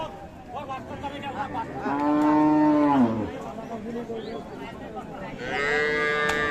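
A Friesian cow with her calf at the Ambari cattle market in Dinajpur lets out two loud, drawn-out moos, the first long and falling and the second rising near the end, over a constant background of market noise.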